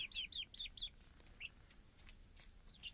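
Chickens on a farm give a quick run of short, high clucks and chirps, fairly faint and a little distant, with no talking over them.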